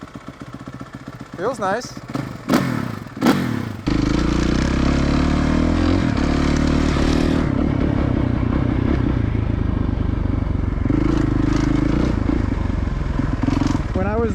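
A 2023 Suzuki RMZ450 dirt bike takes a few kicks before it fires, then runs with a loud, steady, throaty idle and rev blips, close by, while someone talks briefly over it.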